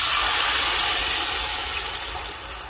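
Water gushes from a tap into a pot for soup, a loud, bright rushing stream that gradually softens as the pot fills.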